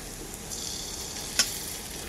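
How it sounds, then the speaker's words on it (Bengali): Steady soft sizzling of spices frying with ginger, garlic and onion in a pan, a continuous low crackle with one brief sharp pop, no voices. "মশলাটাকে আমি খুব ভালো করে কষিয়ে"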